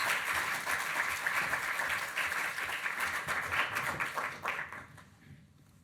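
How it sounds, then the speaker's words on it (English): An audience at a science, agriculture and engineering talk gives a full round of applause for the first speaker, steady and moderately loud, then tapering off into near quiet. "if we can have a big round of applause for our first speaker, please"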